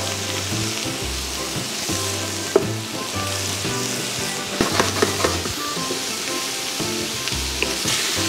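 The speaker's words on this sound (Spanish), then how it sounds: "Los hongos vamos a freír a la temperatura máxima, rápido, para que no suelten su jugo." Portobello mushrooms fry in a smoking-hot pan at maximum heat, giving a loud, steady sizzle with crackles and a few sharp pops scattered throughout, no voices over it.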